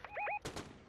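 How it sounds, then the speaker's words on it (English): Gunfire rings out in the Fortnite video game: a brief chirping tone, then a couple of quick, fairly faint shots at a moderate distance. "Someone is shooting."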